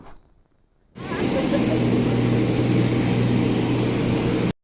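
A loud, steady whine and roar from a Jambojet passenger aircraft at a Nairobi airport, beginning abruptly after a moment of quiet and holding constant, close and unbroken.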